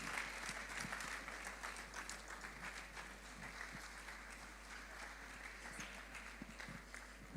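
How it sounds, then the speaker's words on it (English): An audience claps steadily at an event ahead of an opening speech, a dense, sustained round of applause filling the whole stretch at moderate level with no talk over it. "Keep clapping, keep clapping."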